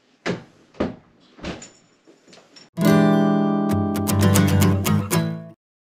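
A door opens with a few short knocks and clunks, then a sustained loud tonal whoosh and clatter as people come in through it; no speech is heard.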